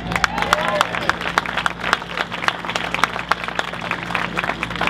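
Outdoor crowd at a Tea Party rally in Green Bay, Wisconsin, clapping and cheering in a steady, dense patter of applause with a low murmur of voices beneath.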